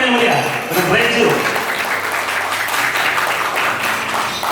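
Audience applause at an Indonesian corporate talk show event welcoming the company Reju, a dense steady clapping wash filling the whole stretch, with faint background voices underneath.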